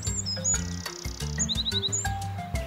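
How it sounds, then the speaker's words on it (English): Xantus's hummingbird gives quick, thin, high chirps and short twittering runs, clear and close, set over a steady rhythmic music bed. "X. Xantus Hummingbird."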